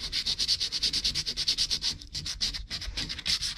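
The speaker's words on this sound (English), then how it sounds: "I'll just rough the edges up with the sandpaper, just around the hole." Sandpaper is rubbed in quick back-and-forth strokes around the edges of a hole in plasterboard, a close, rhythmic scratchy rasping of about a dozen strokes with brief pauses, with no talking.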